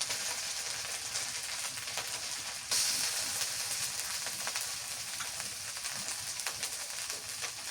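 Garlic paste sizzling in hot oil in a pan while beef curry is cooked: a quiet, steady hiss and crackle that swells slightly when more paste goes in, with no talking.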